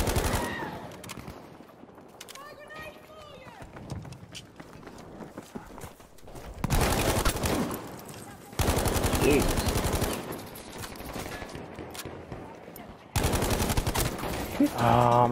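Gunfire from Battlefield V played on PS4, with repeated loud bursts of rapid automatic fire and shorter volleys close by, separated by brief lulls filled with game ambience.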